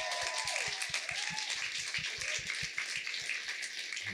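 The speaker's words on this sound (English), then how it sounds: "A huge round of applause to both of our visionaries this evening." Dense, continuous applause from an audience at an evening museum talk, steady and fairly loud throughout, with no voices standing out.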